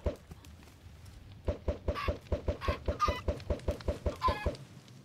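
Chickens cluck in Minecraft, a rapid, evenly spaced run of close, loud clucks with a few higher squawks mixed in.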